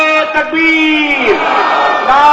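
A large religious gathering's crowd roars back in unison after a takbir call, a loud sustained collective shout of many voices filling the space for a couple of seconds.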